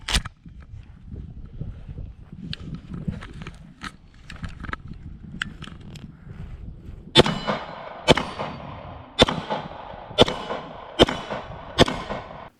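A Rock Island Tac Ultra FS 9mm pistol firing at a range: faint distant shots early on, then six loud, sharp nearby shots spaced roughly a second apart.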